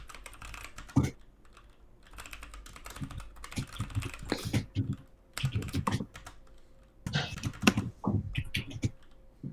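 Close computer keyboard typing comes in quick uneven bursts of key clacks with short pauses, and a voice speaks briefly in places.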